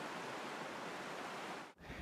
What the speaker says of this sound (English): Yosemite Creek is, it's flowing pretty quickly, but it's not a big creek